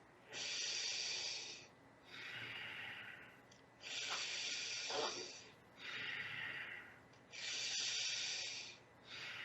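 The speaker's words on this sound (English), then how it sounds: "Breathing in through the nostrils." A person breathes in and out through the nostrils with teeth clenched, in five long hissing breaths that rise and fall steadily, close and fairly loud, with no talking.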